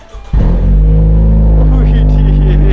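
A car engine catches and roars into a loud, deep, sustained exhaust drone that holds steady and close, with a voice speaking briefly over it.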